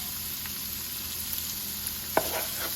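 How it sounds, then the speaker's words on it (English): Shrimp fry in a pan, a constant soft sizzle with occasional light stirring taps and one sharp scrape of a utensil toward the end, heard close with no voices over it. "So just keep stirring and just wait until every single piece change colors."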